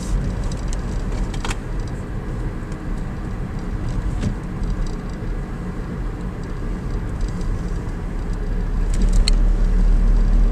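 A car drives along the causeway road onto Inch Island with water on both sides, giving a steady interior engine and road rumble that grows slightly heavier near the end, with faint rattles and no talk.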